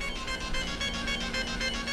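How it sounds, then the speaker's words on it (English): Mobile phone ringing with a repeating electronic ringtone pulsing in a quick regular rhythm, moderately faint and steady. "Why is with my phone ringing today?"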